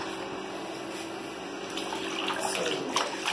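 Tap water runs steadily into a baby's bath, a soft continuous splashing rush that stays fairly faint and grows slightly fuller toward the end.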